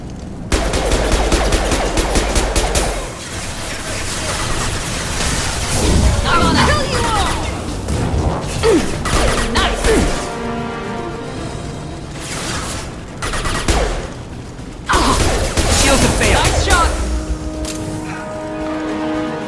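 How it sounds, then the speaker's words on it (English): Blue Suns mercenaries and Vorcha fire weapons in Mass Effect 2: bursts of rapid automatic gunfire and sharp shots come in loud volleys separated by quieter gaps, with speech in between. "The Blue Suns and Vorcha shooting anything that moves."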